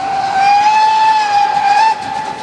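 Rhaetian Railway steam locomotive G 3/4 no. 11 sounds its whistle in one loud, sustained, bright tone that wavers slightly in pitch for about two seconds, then cuts off, leaving a fainter tail.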